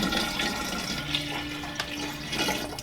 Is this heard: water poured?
yes